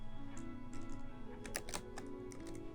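Computer keyboard typing while writing CSS code, an irregular run of light clicking keystrokes over a steady low background hum, fairly close and quiet, with no one speaking.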